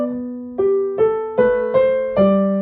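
Piano plays a short passage from Bach's Minuet in G, BWV Anh. 114, with six evenly spaced notes over a smooth, connected left hand, each tone ringing and fading into the next. The phrase is heard alone and close.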